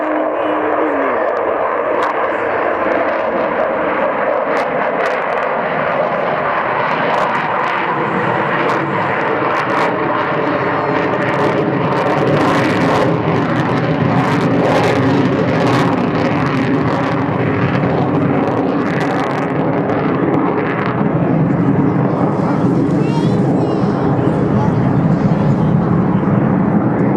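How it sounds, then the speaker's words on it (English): An Avro Vulcan bomber flies a display at Waddington, its four Rolls-Royce Bristol Olympus engines giving a loud, sustained broadband roar that swells and shifts steadily for the whole stretch, with no voices over it. "That lovely noise comes from the 4 Rolls-Royce Bristol Olympus engines."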